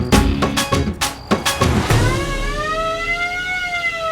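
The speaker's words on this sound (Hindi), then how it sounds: "सायरन की आवाज वहां से आ रही है।" A siren begins after a few sharp knocks and clatters, then rises and falls in a loud wailing tone that carries steadily to the end, close and clear.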